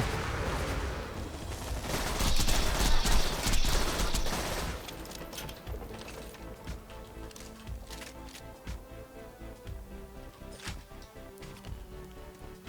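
Magic missiles fire in Borderlands 3 in a dense burst of rapid impacts and blasts, loud for the first few seconds and then a thinner scatter of shots and clicks.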